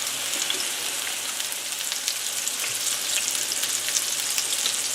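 Salisbury steak patties fry in a pan with a steady, dense crackling sizzle that holds at an even level throughout, close and alone with no voices.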